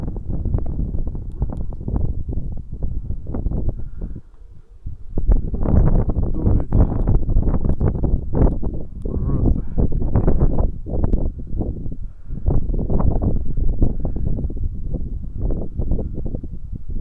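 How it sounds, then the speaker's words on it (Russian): Strong outdoor wind on a January day buffets a microphone in long, roaring low gusts that rise and ease almost without pause, loud and close throughout, with no clear voices. "Ветерок прекрасный."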